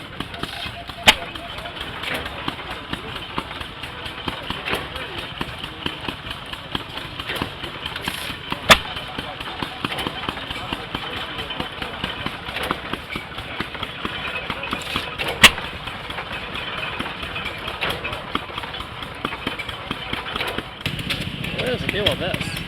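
An old stationary engine running at a tractor show in Pinckneyville, Illinois, a steady mid-pitched idling chug with occasional sharp clicks, heard outdoors beneath people talking.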